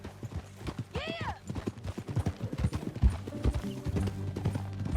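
Horse hooves clip-clopping steadily in Red Dead Redemption 2, close and rhythmic, with a brief whinny early on and some low voices talking underneath.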